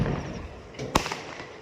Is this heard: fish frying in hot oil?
no